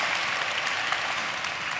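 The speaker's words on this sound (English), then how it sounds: "We got to clap for that one." Audience clapping at a talk, a brief, dense, even burst of many hands filling the space at steady loudness.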